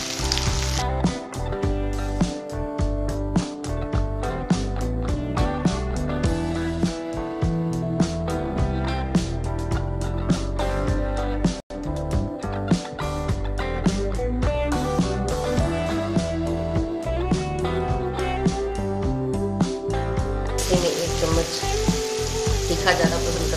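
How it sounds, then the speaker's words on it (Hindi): Onions frying in a pan with salt and curry leaves, a continuous sizzling hiss that runs steadily throughout beneath a constant tonal background. "नमक डालने से प्याज जल्दी से भुना जाता है।"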